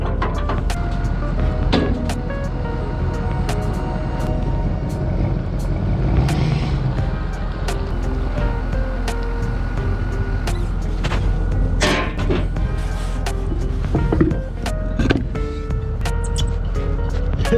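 Truck engine rumbling while pulling a Haulit conveyor belt trailer, a steady low drone with scattered clanks and knocks from the swinging trailer, close by.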